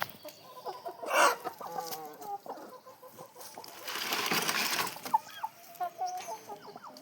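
Chickens, including roosters and a hen, cluck repeatedly in short bursts on a poultry farm, with a brief louder squawk and a stretch of rustling noise in the middle; no talking.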